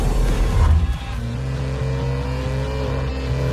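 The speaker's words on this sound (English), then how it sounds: "With the variable valve-active exhaust system enhancing performance capability and delivering SVR's signature soundtrack." A 2019 Jaguar F-Pace SVR's supercharged engine revving loudly through its variable active exhaust, a deep throaty roar that surges early, then settles into a steady drone as the vehicle accelerates, heard close with no talking.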